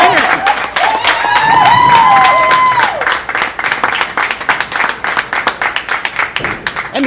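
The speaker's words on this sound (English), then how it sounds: "And the crowd goes wild." A bowling-alley crowd at Suburban Bowlerama erupts after a winning frame, a loud cheering shout giving way to sustained, close clapping that thins into scattered individual claps.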